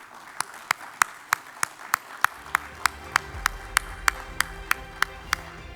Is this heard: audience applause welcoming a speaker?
yes